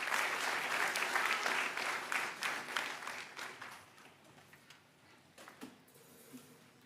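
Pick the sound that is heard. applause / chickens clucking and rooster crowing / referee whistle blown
applause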